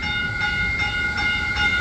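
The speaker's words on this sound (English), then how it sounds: "Here it is, pulling into Millbrae to make its scheduled stop." Caltrain northbound local passenger train pulling into Millbrae station, a steady loud rumble of rolling cars with sustained tonal squeal and hum throughout, no voices.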